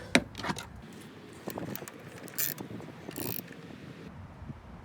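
A hand ratchet clicks in short bursts while tightening the valve cover bolts on a Honda Accord engine, with a few sharp metallic knocks and no talking.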